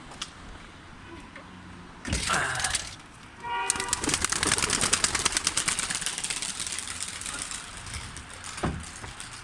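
Pigeons coo softly nearby, then a loud, rapid flutter of wingbeats rises and continues for several seconds before fading.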